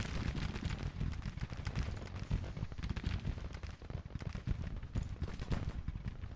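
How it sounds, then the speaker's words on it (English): Artillery bombardment in the Grand Tactician Civil War strategy game, a dense, continuous barrage of overlapping cannon blasts and crackling fire at steady loudness, without pause. "I'm going to keep the artillery bombarding"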